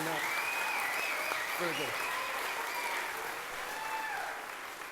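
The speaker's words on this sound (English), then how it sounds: "Let's give them a round of applause since we're doing that." An audience at an FFA banquet applauds, a faint, fairly even patter of clapping with a voice speaking briefly over it and some high tonal squeaks.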